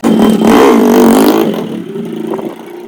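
A khaki Royal Enfield Bullet motorcycle starts up and revs hard with a loud, throaty engine roar, then settles back to a steadier, quieter running rumble as it moves off.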